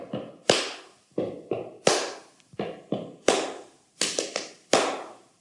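Body percussion for a stadium rock anthem: about ten sharp, close slaps and claps alone in a steady repeating stomp-stomp-clap pattern, with no talking over them.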